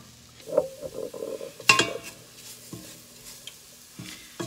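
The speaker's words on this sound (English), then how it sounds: "Basically, you're almost making a roux, but with also the chili powder and all that." A roux with chili powder cooks in a pan while a spoon stirs it. Scattered scrapes and knocks sound over a soft sizzle, with one sharper clatter near the middle.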